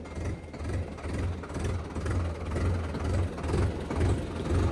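Tractor engine on a sand-hauling trip over potholed roads runs steadily with a low, rhythmic throbbing pulse, fairly close and continuous, no talking.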